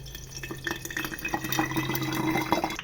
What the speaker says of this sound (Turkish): Kevgirli aldık ve kavanozlayacağız. Evet şimdi de süzüyoruz.